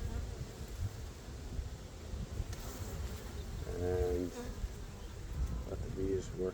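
A big honeybee swarm buzzing around the top frames of a new ten-frame hive, a close, continuous mass hum with individual bees droning past the microphone, over light outdoor rustle.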